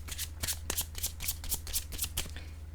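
Tarot cards being shuffled and handled, a steady run of crisp riffling bursts close up, with no talk over them.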